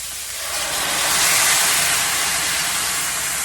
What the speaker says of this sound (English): I want these vegetables now to steam a little bit